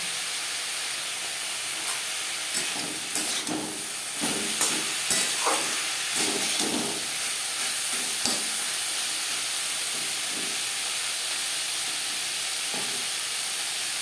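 Spiny gourd slices sizzle and hiss in a hot pan over a high-to-medium gas flame while a utensil scrapes and stirs in irregular bursts, louder in the middle and settling toward the end.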